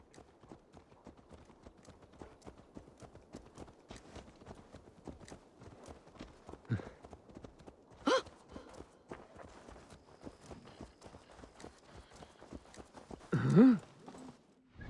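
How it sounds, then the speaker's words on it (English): Horse hooves clip-clop at a steady walking pace in the Assassin's Creed Valhalla video game, with regular close hoofbeats, a few louder thumps and a brief snort or whinny near the end. "Let's return the horse."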